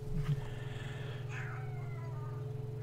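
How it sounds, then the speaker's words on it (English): A cat meows near the microphone in a quiet room, a few soft, drawn-out calls over a steady low electrical hum, with no talking. "Cat came and said hello."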